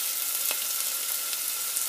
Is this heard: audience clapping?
no